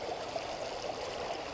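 Creek water at Terrapin Creek near the South Pedlar ATV trails flows steadily with a soft, continuous rushing and trickling wash, close by and alone with no voices.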